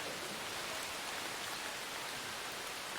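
Rain falling steadily outdoors in a wet forest, a constant dense hiss with no other sounds.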